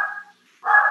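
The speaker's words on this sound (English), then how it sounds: "my dog is sounding off" A dog barks twice in quick succession, a short yelp then a longer, louder bark after a brief pause, sounding close but slightly muffled.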